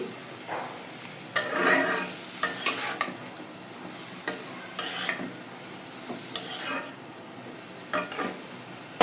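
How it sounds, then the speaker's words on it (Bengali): Spoon stirring turmeric into frying green tomatoes in a pan, with scraping strokes and soft sizzling repeated in irregular bursts, close and moderately loud, no voices. "আমি হলুদটাকে মিলিয়ে দিব"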